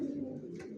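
Young racer pigeon squabs give a brief, low throaty coo or grunt, close and continuous for under a second.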